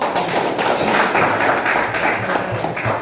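A class of students claps together, a busy spread of close hand claps and light taps running through the short stretch.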